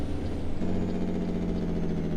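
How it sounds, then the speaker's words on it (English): A Kenworth W900 truck engine in American Truck Simulator drones steadily and close, a deep rumbling idle whose pitch shifts slightly downward partway through, with no voices over it. "But the sound on this truck is pretty nice, from what I heard so far."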